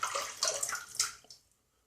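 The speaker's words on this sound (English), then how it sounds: "I'm going to rinse off and we're going to check how well we've done here." Water from a tap runs and splashes briefly while someone rinses off after a wet shave with a RazoRock Stealth slant razor. The sound is close and hissing, then fades to quiet after about a second and a half.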